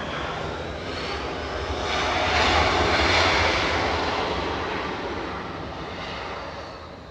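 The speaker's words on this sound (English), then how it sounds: "A220 flying to Vegas" Airbus A220 jet taking off at Los Angeles International Airport, a continuous loud engine roar that swells to a peak midway and then slowly fades as the plane climbs away.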